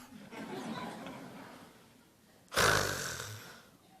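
After some low murmuring, a voice lets out one loud, rasping snort that imitates snoring, then it fades.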